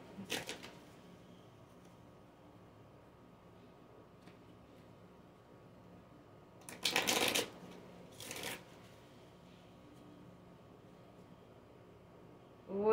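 Tarot cards shuffled in a quiet room, one short riffle at the start followed by two louder, close bursts of shuffling later on.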